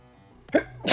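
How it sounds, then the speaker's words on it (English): A single person's sneeze, a short sharp burst after a brief indrawn breath, close and loud in a quiet indoor room with no talking. "Hold on, I'm about to sneeze."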